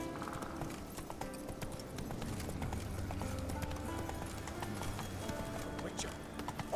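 Roach, a horse in the game The Witcher 3, trots with a steady clip-clop of hooves, close and continuous, and gives a brief whinny near the end.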